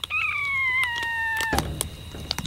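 A kitten gives one drawn-out, slightly falling meow close by, followed by faint rustling and a quiet background.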